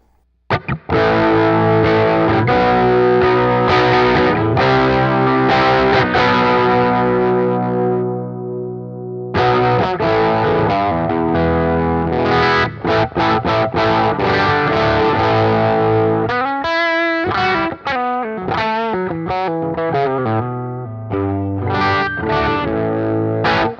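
Electric guitar through a Wampler Tumnus overdrive pedal, all knobs at noon, with a thick tone plays sustained chords, then a brief pause before choppier chords and single-note riffs ring out loud and close.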